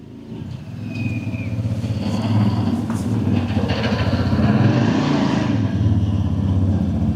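A motorcycle engine runs steadily nearby, a continuous low rumbling drone that holds loud throughout with slight swells, as if idling or revving gently, with no voices over it.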